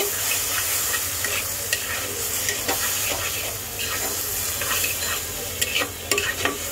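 Turmeric, coriander and cumin are stirred into hot oil in a pan, sizzling steadily and loudly throughout, with frequent scraping strokes of the spoon and no talking.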